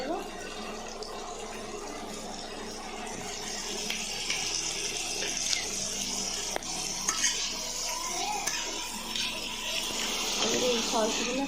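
Chilli cooking in a pan with chopped tomato and mixed sauces, stirred with a steady scraping and a soft sizzle of frying, while someone talks over it.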